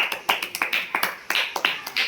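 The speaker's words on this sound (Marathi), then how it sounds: "छान, टाळ्या वाजवा त्याच्यासाठी" Children applauding a classmate in a Marathi-medium third-grade classroom, a quick run of uneven sharp claps lasting about two seconds, fairly close and moderately loud, with no talking over it.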